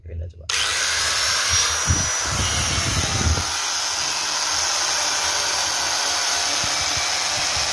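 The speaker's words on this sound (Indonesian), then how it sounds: "Kita ini pakai ini gerinda ya, coba pakai gerinda coba." An angle grinder cuts steadily with a loud, continuous high whine and hiss close by, starting abruptly after a brief pause, with a few low knocks early on.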